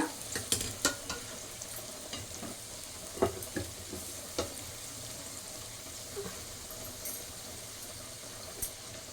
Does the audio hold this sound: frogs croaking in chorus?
no